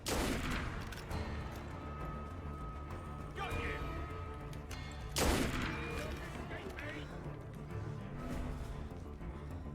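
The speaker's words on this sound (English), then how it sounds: "I'm more worried about the snipers just decking me here" Sniper fire in Assassin's Creed Unity, a few sharp shots spaced over the stretch, the loudest near the middle, over steady game ambience and crowd murmur.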